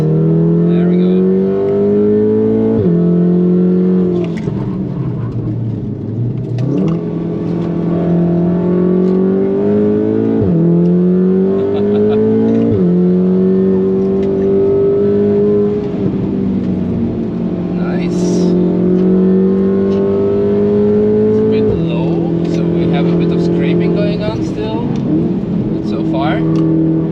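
Turbocharged VW Golf R engine on the Nürburgring revs hard through repeated upshifts, each rising sweep cut by a gear change, loud and close throughout, with a person talking over it.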